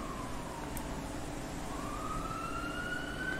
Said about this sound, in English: And I hear sirens, so there's cops coming.